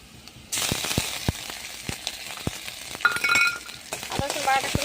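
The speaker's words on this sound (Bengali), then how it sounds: "আদা রসুন বাটাটা একটু ভেজে নেবো।" Ginger-garlic paste fries in hot oil in a pan along with onions and dried chillies, a close sizzle that starts abruptly, with repeated sharp spatula taps and scrapes against the pan.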